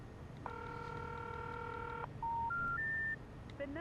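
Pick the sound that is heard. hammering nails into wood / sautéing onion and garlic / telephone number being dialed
telephone number being dialed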